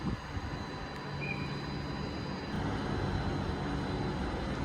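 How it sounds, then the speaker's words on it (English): Class 150 diesel train departing Stockport station for Buxton, a low steady engine rumble and rolling noise at moderate distance, with a faint brief tone from the platform and no talking. "That 150 behind me is now departing to Buxton"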